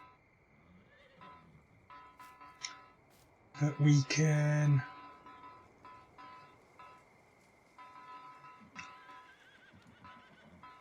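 A loud, close horse whinny rises and falls for about a second among the game's three horses in Farming Simulator 19, with soft hoof clops and someone talking quietly before and after.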